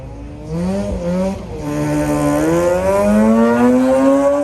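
Mazda RX-8 rotary engine car at an autocross event, its buzzy, smooth engine note climbing and dipping in pitch as it accelerates and shifts, loud and fairly close throughout.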